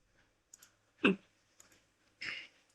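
Mouse clicks on a laptop: a few quiet, sharp clicks spread across a near-silent background, with one firmer click in the middle and a softer double click near the end.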